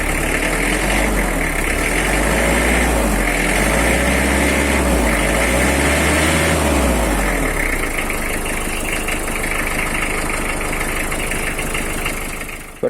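A 2013 Mitsubishi L300 with power steering idles steadily at close range, its engine giving a continuous low rumble with a slight throb and no talk over it.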